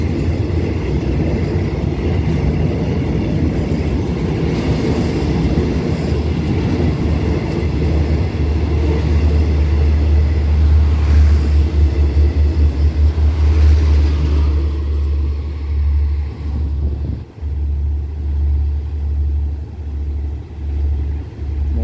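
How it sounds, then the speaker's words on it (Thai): A passenger train rumbles across a cable-stayed bridge close by, loud and heavy with rhythmic clattering of wheels, then fades into a lower rolling rumble. "รถโดยสารขบวนแรก"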